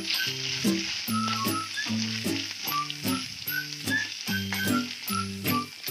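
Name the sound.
coconut frying in a pan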